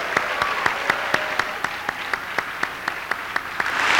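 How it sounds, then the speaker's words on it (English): A graduation audience with the class of 1997 applauds the North High faculty: a continuous bed of crowd clapping with a few sharp, regular louder claps standing out near the microphone throughout. "I'd like to join the class of 1997 in giving you a round of appreciative applause"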